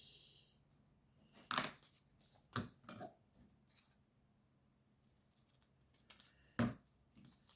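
Paper being cut for a handmade snowy landscape card, with a few sharp, close snips spaced irregularly through otherwise quiet surroundings and no talking.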